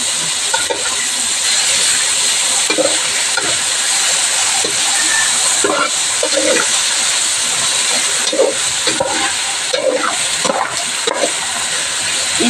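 Tomato pieces hiss and sputter in a pan after ginger paste, steady frying noise close up with intermittent scraping stirs at irregular intervals throughout.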